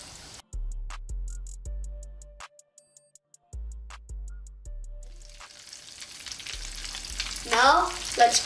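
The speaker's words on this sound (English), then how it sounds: "If they sizzle, that's a good sign." Oil sizzles and crackles steadily as mac and cheese balls deep fry, with clear repeating ticks and a clatter of utensils or a basket near the end.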